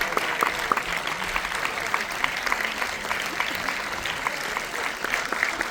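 Steady, continuous applause from a large crowd at a movie premiere, dense clapping filling the whole stretch without pause.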